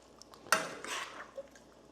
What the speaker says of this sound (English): I throw in our chopped parsley and mix this up real good